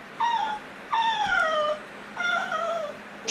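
A sick dog that cannot move whimpers in three drawn-out, high whining cries separated by short pauses, close and fairly loud with no talking.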